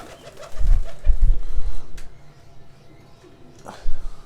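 A Salare teddy pigeon coos close up in a few low, throaty bursts, two clusters early on and one more near the end, separated by quiet handling sounds.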